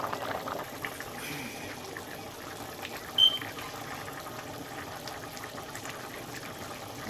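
A pot of Guyanese pot roast chicken wings bubbles quietly on the stove as a soft, continuous simmering hiss, with one brief sharp sound partway through.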